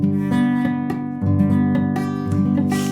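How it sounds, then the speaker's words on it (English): A six-string barre chord on guitar rings out repeatedly, each strum buzzy and slightly muted, uneven and rough-sounding, about five strums in a row. "if you put down a 6 strings bar chord and it sounds like this"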